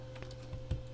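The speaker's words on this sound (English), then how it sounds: "This is me right clicking." A computer mouse being right-clicked during a Minecraft game gives two or three quick, close, crisp clicks within about a second.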